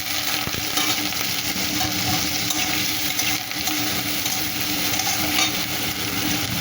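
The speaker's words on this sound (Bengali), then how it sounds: "তেলের উপরে পেঁয়াজ পাঁচফোড়ন আর লঙ্কা দিয়েছি আর এই চিংড়ি মাছগুলো দিয়ে দিলাম" Shrimp frying in oil with onion, five-spice and chili, a dense, loud, steady sizzle and crackle running throughout, with occasional stirring scrapes, close and uninterrupted, no voices.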